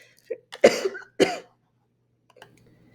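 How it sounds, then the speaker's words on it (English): A short cluster of dry coughs close to the microphone: a small clearing sound, then two harsh coughs, followed by quiet. "I'm recovering from a bit of a cough, and sometimes all the talking is triggering a cough"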